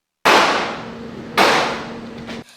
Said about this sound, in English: During the drill, a police officer poses as the active shooter and enters the school shooting blanks.